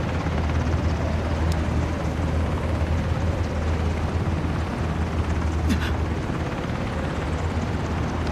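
Helicopter in the Ring of Elysium video game, a steady loud rotor drone with low thumping throughout, close and continuous with no talk over it.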